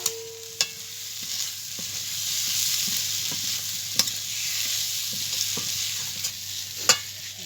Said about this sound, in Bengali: মশলার সঙ্গে আলু পটল কষিয়ে নিয়েছি